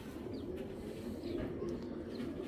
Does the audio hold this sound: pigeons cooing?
yes